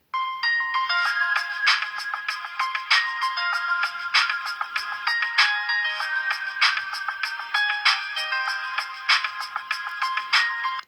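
A bright electronic ringtone melody from a Nokia C2-00 mobile phone repeats steadily, chiming notes with regular pulses, loud and close with no voices.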